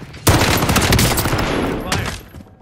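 Dense, loud gunfire burst from a Call of Duty Rebirth match, a sustained rattle of shots through most of the clip with a second flurry near the end, no voices over it.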